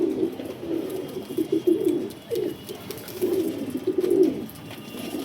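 Pet kalsira pigeons coo in repeated soft, throaty phrases close by, rolling calls spaced through the clip with faint background noise and no talk.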